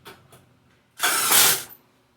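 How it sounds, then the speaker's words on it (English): A few faint clicks are followed by a short, loud whirring burst as a screw is driven to fix a stainless steel mending plate on a custom fire-walk burn barrel, heard up close. "I'm attaching a stainless steel mending plate"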